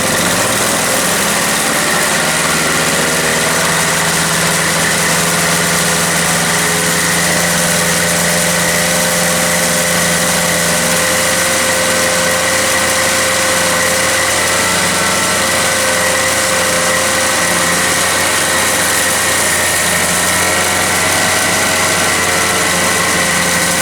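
A Toro CCR 3000 GTS snow blower, with a repaired bad carburetor, idles steadily and loudly at close range, a constant engine drone with no change in pitch and no voices.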